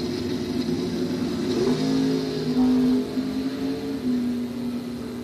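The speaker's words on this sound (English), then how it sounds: "He's in the Camaro up against Jim Laughlin, the 78 Chevy Malibu" Drag race cars, a Camaro against a 1978 Chevy Malibu at a bracket nationals event, roar steadily as they accelerate, with engine tones rising and shifting over a dense, continuous drone heard from a distance.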